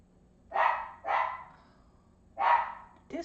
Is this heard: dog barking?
yes